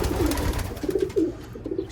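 Racing pigeons in a loft give soft, repeated throaty coos, close but low over a steady background rumble and rustle.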